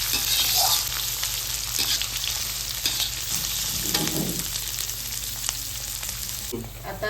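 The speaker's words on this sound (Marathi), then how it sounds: "हा कांदा आपण टाकून फ्राय करू" Large chopped onions fry in a pan for poha with a loud, steady sizzle, while a spatula stirs and scrapes intermittently throughout.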